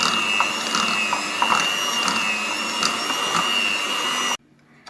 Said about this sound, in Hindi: अब मैं हल्का सा बीटर चलाऊंगी ताकि ये अच्छी तरह आपस में